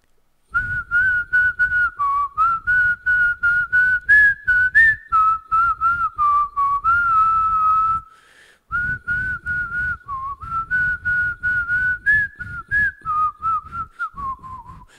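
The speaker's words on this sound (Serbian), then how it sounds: "Sad ću zviždanje." A person whistles a wavering tune, loud and close, carrying on steadily for about fifteen seconds with one short pause midway.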